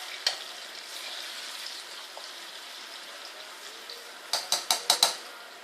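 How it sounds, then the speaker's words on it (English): Plantain slices fry in a pan on low heat, giving a steady, soft sizzle throughout; near the end a quick series of sharp clinks from a utensil against the pan cuts in close and loud. "you're going to let those fry for like about, say about 5 minutes"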